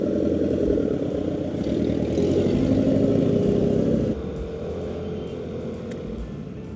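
A motorcycle engine passes nearby in light rain, a steady loud drone that rises and then drops off as it goes by.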